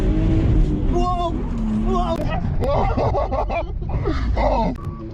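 A 150bhp Lexus drifts and spins on the Driftland track, its engine revving and tyres scrabbling in bursts under loud, excited talk close by.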